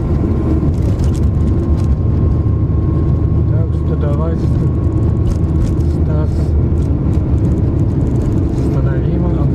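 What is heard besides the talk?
car driving in a Siberian blizzard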